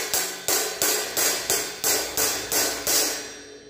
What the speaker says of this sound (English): watch what happens when I use a clothespin to seal the cymbal